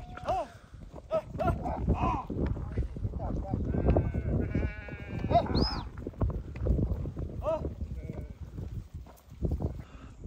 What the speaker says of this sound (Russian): Мы сейчас будем отбирать женского рода овец.